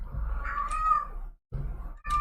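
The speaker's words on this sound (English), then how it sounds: "pardon the kitty cat though in the background" A house cat meows in the background, two drawn-out plaintive meows separated by a short pause, faint and somewhat distant over a low room hum.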